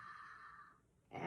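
A soft, airy exhale of Ujjayi breath during yoga practice, a single steady hiss that fades out before a fresh breath begins, close and quiet.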